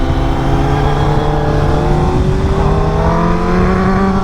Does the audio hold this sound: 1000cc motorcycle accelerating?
yes